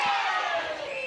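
Vocal crowd at a Tiwi Bombers versus Wanderers NTFL men's Australian rules football match roaring and shouting for a free kick, a loud sustained mass of voices throughout.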